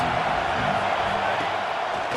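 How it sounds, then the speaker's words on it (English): A stadium crowd in EA College Football 26 roars steadily for the defense on a big third down, a dense, continuous wash of cheering. "Big 3rd down as the crowd gets behind this defense"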